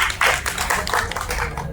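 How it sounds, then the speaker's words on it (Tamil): An audience gives a short burst of clapping for a co-producer, several quick hand claps in a loud, roomy patter that stays fairly even across the brief moment. "அதனால அவருக்கு ஒரு கைத்தட்டல் கொடுத்துருவோம்."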